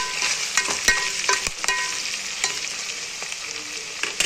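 Curry leaves fry and sizzle in hot oil in a pan, a close, constant crackling hiss broken by sharp clicks and scrapes of a utensil stirring, with no one talking.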